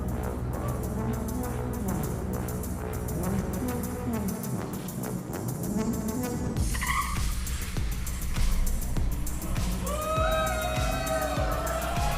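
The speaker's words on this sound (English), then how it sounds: "see how does the Cybertruck perform against a Porsche 911" A Tesla Cybertruck racing a 2023 Porsche 911 at a live delivery event: loud continuous car noise with screeching tire squeals and skids, rising whines near the end, amid crowd and announcer-like voices in the background.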